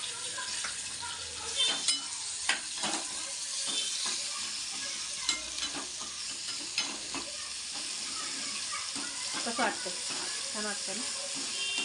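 Sliced onion hitting hot oil with curry leaves and coriander in a pan, a steady close sizzle broken by sharp scraping stirs and spoon clinks, with a voice speaking briefly now and then.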